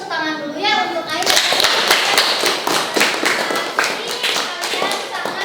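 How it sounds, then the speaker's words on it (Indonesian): Students in an industrial electronics classroom break into applause for a classmate, a brisk burst of many hands clapping close by after a teacher's voice, continuing loudly for several seconds. "Tepuk tangan dulu ya untuk Ai"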